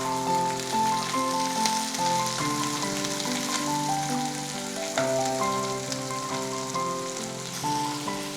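Sliced onions and fennel seeds fry in a pan with a steady close sizzle and crackle that continues throughout, heard over soft melodic background music.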